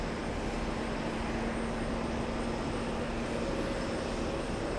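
A Delta Airlines A321neo at an airport makes a steady, continuous jet roar with a faint whining tone, moderately distant and unbroken, with no voices.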